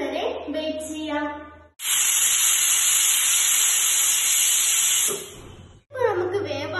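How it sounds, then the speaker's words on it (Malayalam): A pressure cooker on a kitchen stove lets off a long, loud, steady steam whistle with a harsh hiss, ending abruptly, followed by short bursts of sputtering release before and after. "എന്നിട്ട് നമുക്ക് ഒരു 4 വിസിൽ വരെ വെയിറ്റ് ചെയ്യാം."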